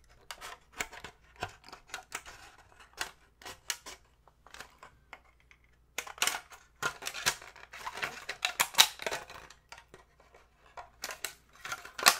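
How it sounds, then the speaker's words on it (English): Scissors snipping through plastic packaging to cut out Popin Cookin donut molds, with a quick run of short, close crisp snips and crinkles, sparse at first and then denser and louder. "Cut out the donut molds."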